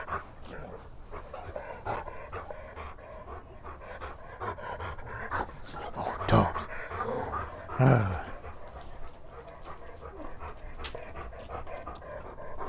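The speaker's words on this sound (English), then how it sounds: "I hear my panting dog." A dog pants quickly and steadily up close, with a person briefly speaking partway through.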